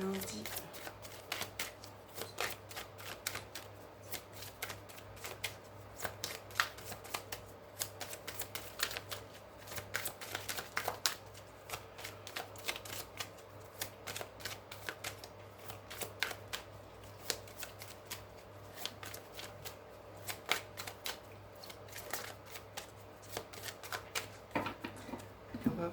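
Oracle cards are shuffled continuously by hand, a dense run of soft crisp riffling and flicking that goes on throughout, recorded close and fairly quiet.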